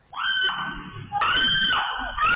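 A woman screams in two long, high, wavering cries, loud and alone, picked up by a CCTV camera in a residential building in Santa Ana, Manila.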